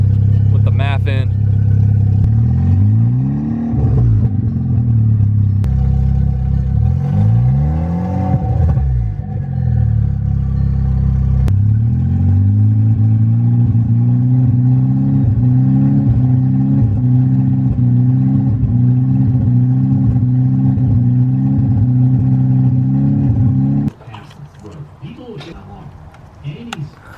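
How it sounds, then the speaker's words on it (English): An MK6 Golf R engine running a tuned map, with a P0016 fault, blipped through several quick revs that rise and fall, then held at a steady elevated drone before dropping off, loud and close. "Give her some baby revs with the map in."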